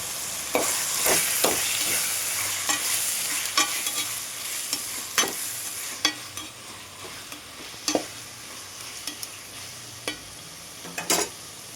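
Prawn masala sizzles steadily in a hot pan, broken by repeated sharp scrapes and clinks of a spatula stirring at an uneven pace, close up with no talking.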